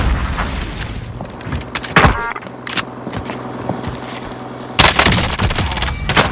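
Heavy booming blasts in a first-person shooter match, one around two seconds in and a louder burst near the end, amid scattered gunfire and thuds.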